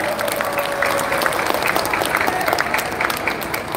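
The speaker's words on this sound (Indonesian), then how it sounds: "Berikan tepuk tangan yang meriah pada para koordinator." Audience applause for volunteer coordinators at a political rally, steady dense clapping throughout with crowd noise and a voice faintly audible underneath.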